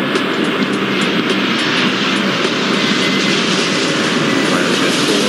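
A jet airliner's engines roar at takeoff in the airport video game Airport Madness 4, a loud, steady, broadband rumble that holds unbroken throughout with no voices.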